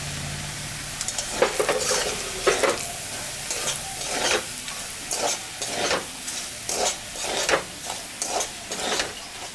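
Semolina stirred and frying in a pot with bay leaves for sooji pulao, a steady sizzle punctuated by rhythmic scraping strokes of a spoon against the pot.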